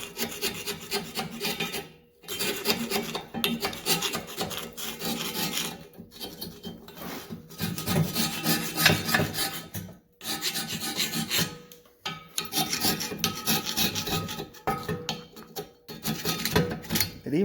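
A Matco scraper rasps rust off a metal surface in repeated close, gritty scraping strokes, each lasting a second or two and separated by brief pauses.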